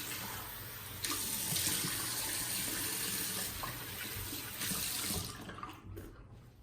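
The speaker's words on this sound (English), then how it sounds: "So let's rinse off the face here." A tap runs into a sink as a freshly shaved face is rinsed, a steady close rush of water with slight splashing shifts, then it cuts off near the end.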